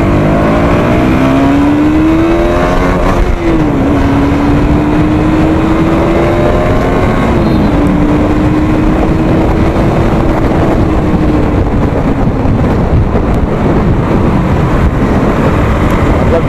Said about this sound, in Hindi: 7-8 दिन के बाद बाइक राइड करा रहा हूँ पीछे